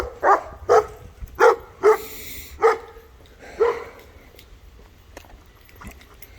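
Dogs on a morning hike barking in a series of six short, loud, evenly spaced barks, followed by quieter whimpering and shuffling.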